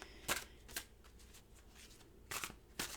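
A deck of Fairy oracle cards is shuffled by hand, giving several short riffling bursts with quieter gaps between them, close and soft, with no talk.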